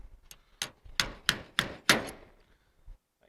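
Hammer blows on the dented steel roof of a 1974 Chevy C10, five sharp metallic taps spaced about a third of a second apart, close and clear, followed by a faint softer tap.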